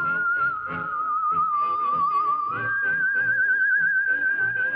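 A Space Theremin, an electronic instrument, sings a high, steady soprano-like line that glides between held pitches, with an occasional faint wobble, played alone over a busy background accompaniment.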